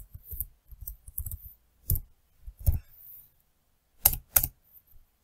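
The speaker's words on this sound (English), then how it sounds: "Then we type the name of the directory, and then we type the name of the script." Typing on a computer keyboard while entering a crontab command: sparse, irregular clicks and small clusters of keystrokes, close and crisp, with quiet pauses between them and no talk.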